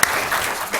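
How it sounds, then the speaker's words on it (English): Audience applause at a property tax talk, a steady wash of many hands clapping at moderate volume throughout, fading slightly near the end. "please give him a round of applause"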